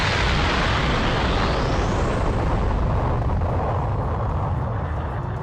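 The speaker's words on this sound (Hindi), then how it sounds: "गोकू और गोहान के की ब्लास्ट के कारण बहुत बड़ा धमाका होता है" A huge animated explosion from Goku and Gohan's ki blasts roars as a dense, sustained rumbling blast, loud and continuous throughout, with a rising whoosh sweeping through it.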